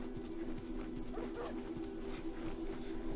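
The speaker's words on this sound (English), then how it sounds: "I hear dogs, and 20 years on, they're probably not former family pets." Dogs bark in The Last of Us video game, a muffled, distant cluster of barks and whimpers over a steady low hum of game ambience, with no talk.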